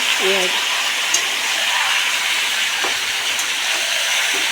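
Meat lightly frying in hot oil in a pan, an even, continuous sizzle and hiss at moderate loudness throughout with a brief clink near the start.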